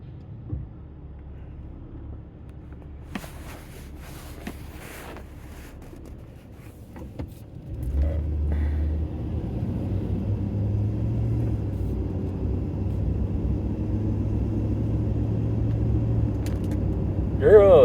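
A bus stops at the top of a hill. A low engine rumble swells about halfway through and then holds steady and fairly close, with quieter background noise before it.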